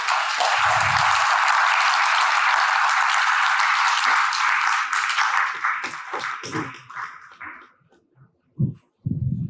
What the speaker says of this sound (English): Can you have a huge round of applause for that?